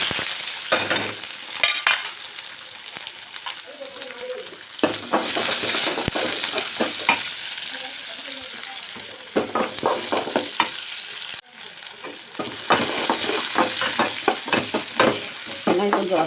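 Onions and garlic sauté in oil for tomato chutney, giving a steady close sizzle broken by repeated bursts of spoon stirring and scraping in the pan, with occasional faint clinks.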